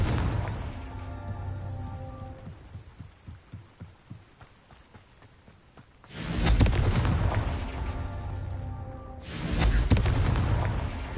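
Two loud, broad fiery blasts of a Confringo fire spell in Hogwarts Legacy, the first bursting in around the midpoint and the second a few seconds later, each set over a low rumbling game soundscape and a faint, steady musical drone.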